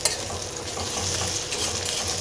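Ginger frying in a kadai, a dense, close sizzle that stays steady throughout with faint stirring underneath and no voices.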